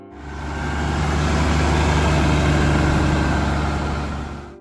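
An Allis-Chalmers D21 diesel tractor engine rumbles steadily and loudly, a deep, even low drone that swells in and holds without a break.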